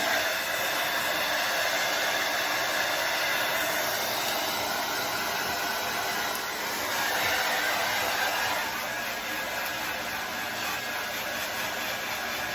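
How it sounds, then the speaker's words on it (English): A hair dryer blows on long hair in a continuous, loud, steady whooshing hiss up close, with only slight shifts in tone as it moves. "I'm really concentrating on drying and making sure I'm lifting it from the scalp"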